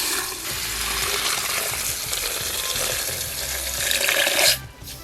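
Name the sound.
water running into container with soap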